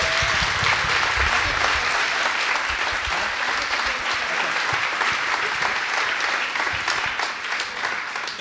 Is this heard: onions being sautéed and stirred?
no